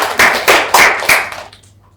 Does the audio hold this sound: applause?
yes